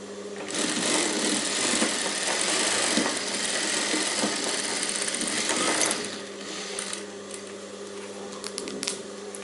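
Close and steady, a sewing machine runs a long seam on a princess-cut blouse, a continuous buzzing whir that eases after about six seconds into a lighter run with a few short ratcheting clicks.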